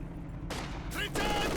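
Howitzer barrage in a Company of Heroes 2 match, a short quick cluster of sharp explosive shell bursts and crackling impacts, fairly faint, with no speech over it.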